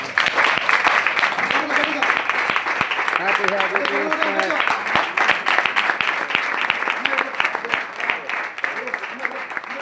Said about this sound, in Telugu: అంత గట్టి చప్పట్లు కొడతారనా?